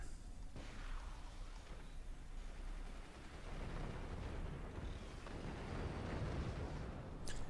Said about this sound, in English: Another hit from Team 2 swarm missiles.